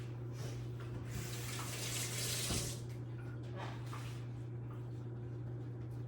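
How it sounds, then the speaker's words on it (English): Hands are washed under a running kitchen tap, a steady broad rush of water with soft splashing changes as the hands move through the stream, close and continuous over a low background hum. "I'm gonna wash my hands here."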